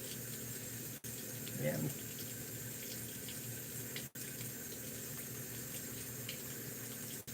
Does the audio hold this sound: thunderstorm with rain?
no